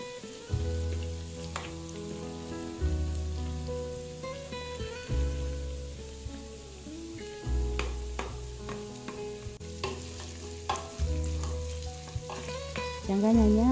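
Beef, onions and pilau masala sizzle in a pot of oil for beef pilau while being stirred, the frying swelling and easing in repeated bursts against a faint tonal backdrop.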